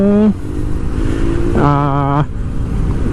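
A GPX GR200R motorcycle runs steadily up close, its engine note climbing and settling as the rider works the throttle.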